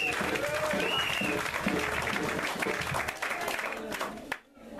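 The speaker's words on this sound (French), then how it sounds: "On acclame pour Papa Jude." Congregation in a church service in Gabon applauding steadily, with dense sustained clapping and crowd noise throughout and some voices mixed in, the clapping dying down briefly near the end.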